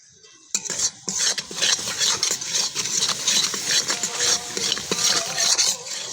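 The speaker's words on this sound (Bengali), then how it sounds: "মশলাটা আমরা ভালো করে কষিয়ে নেব 5 থেকে 7 মিনিট পর্যন্ত।" Spice masala with ground dry chilli and turmeric being stirred and fried in a pan for a fish curry, with a steady sizzle and repeated scraping and clinking of a metal spatula against the pan throughout.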